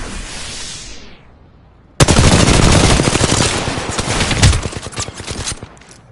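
Rapid video-game gunfire in Fortnite, Solo Duos mode: after a quiet lead-in, loud sustained automatic bursts erupt and continue steadily to the end, close and dense with no talk over them.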